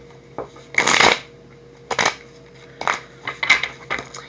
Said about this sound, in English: You guys hear me shuffling the cards